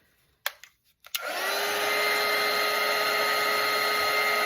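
After a few soft taps and clicks, a hair dryer switches on to dry a watercolour painting, settling into a steady, close whirring drone with a constant motor whine.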